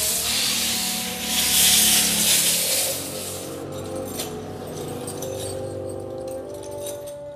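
Sandpaper rubs against an engine part from an L300 diesel, a loud, rough scratching for the first few seconds that then eases into lighter, intermittent scraping strokes close by.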